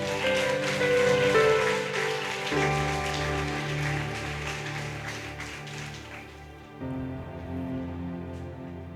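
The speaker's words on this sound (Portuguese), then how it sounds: "Aplauda o nome de Jesus." Church congregation applauding after a call to praise the name of Jesus, a dense wash of clapping with music-like tones underneath, loud at first and easing off slightly toward the end.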